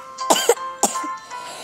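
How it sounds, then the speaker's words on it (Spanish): Two distinct coughs, close and fairly loud, the first a double hack and the second a single sharp burst, with a faint background tone. "Así como esta tos."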